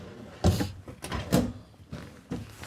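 Soft-close drawers on a cabinet in a 2025 Newmar Bay Star 3014 motorhome, opened one after another: four muffled thuds and slides spaced about a second apart, close and fairly quiet, with no talking.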